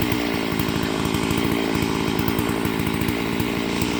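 A chainsaw mill runs at steady full throttle outdoors in an autumn setting, cutting long ant-ridden slabs, a loud continuous buzzing drone with a rapid chattering rhythm and no pause or talk.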